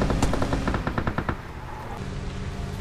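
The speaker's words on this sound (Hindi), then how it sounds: "तभी मेरे ऊपर गाइज एक बंदा फायर करता है।" Automatic gunfire from an enemy player in PUBG Mobile on the Miramar map, a rapid burst of sharp loud shots for over a second, then quieter game ambience.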